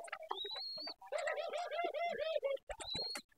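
Domestic pigeon nesting with grown chicks gives a clear, close series of rhythmic rolling coos, bracketed by short whistled calls, with someone talking nearby.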